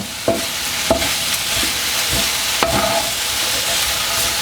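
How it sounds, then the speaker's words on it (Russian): Mushrooms and onion sizzle steadily in a hot pan while a utensil scrapes and stirs a few times, with no talking. "И жарим до полной готовности."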